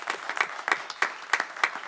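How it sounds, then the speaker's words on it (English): Audience clapping at a township board meeting, a steady patter of many hands with irregular louder bursts, close and filling the room with no talk over it. "So one more round of applause."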